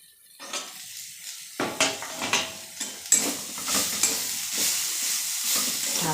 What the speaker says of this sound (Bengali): ঢাকনা সরিয়ে আরও 5 মিনিট মিডিয়াম আঁচে সুন্দর করে নেড়ে ভেজে নেবে